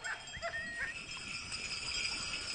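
Sled dogs bark and yip in a town setting, short overlapping calls at moderate distance over a constant background hiss, with no speech over them.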